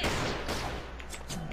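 Bursts of gunfire from the video game CrossFire crackle in a short, dense flurry of overlapping shots, loud and close, with a few sharper pops near the end.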